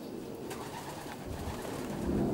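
Racing pigeons coo softly and steadily in an open aviary of a pigeon loft, a low continuous murmur with no talk, swelling slightly louder toward the end.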